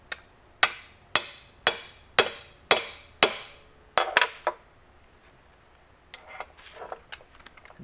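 A hole is punched through for a rivet while replacing cable or rope on a More Power Puller, with seven evenly spaced, ringing metallic hammer blows close up, then softer scattered taps and clinks.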